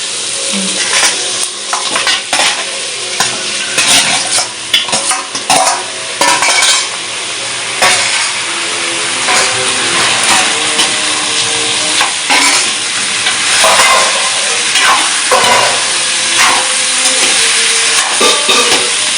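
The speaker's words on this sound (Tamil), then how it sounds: "உருளைக்கிழங்கு வதங்கிட்டு இப்போ இதுக்கு நாங்கள் இறைச்சியை போட போகிறோம்." Country rooster meat and potatoes stir-frying in a pot for a village-style curry, with a loud, steady sizzle and repeated scrapes and clinks of a metal spoon against the pan throughout.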